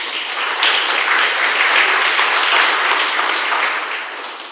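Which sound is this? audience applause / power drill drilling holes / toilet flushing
audience applause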